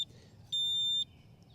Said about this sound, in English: I'd push the button, and it beeps like that